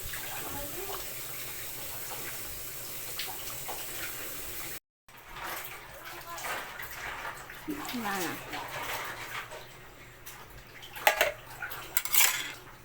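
A spoon clinks and scrapes inside a metal pot of soup with milk as liquid sloshes, close by, with some kitchen clatter.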